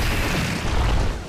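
A combined special shot, Imperial Penguins plus Divine Cannon, strikes in the Inazuma Eleven GO Strikers 2013 soccer video game, giving a dense, loud, sustained booming blast that fills the whole moment.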